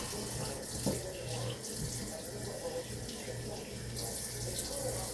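Tap water running into a sink while a pepper is washed out, a steady splashing stream close by with faint clatter and brief rustling.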